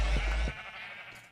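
A Minecraft sheep lets out a single short, close bleat that quickly fades, alone with no talking.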